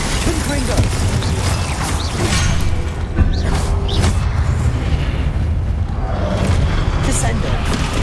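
The Confringo fire spell in Hogwarts Legacy sets off booming blasts with crackling bursts over a dense, rumbling battle din, loud and continuous, while a voice shouts over the action.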